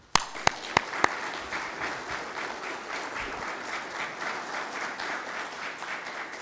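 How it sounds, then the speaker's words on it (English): Applause at a City of Leesburg commission meeting for the city's line workers, opening with a few sharp individual claps before the room breaks into steady, sustained clapping. "Can we celebrate and give a hand applause for our line workers for the city of Leesburg?"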